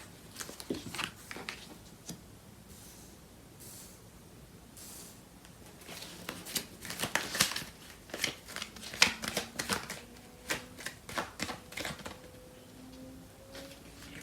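Tarot cards are shuffled by hand to draw clarifier cards, giving a quiet, close run of papery riffles and flicks that grows busier partway through, with no talk.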